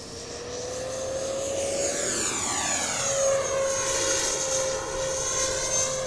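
A Freewing F9F-8 Cougar 80mm electric ducted-fan model jet whines at high throttle, its pitch sliding and sweeping as it flies past and banks, with a steady airy rush underneath.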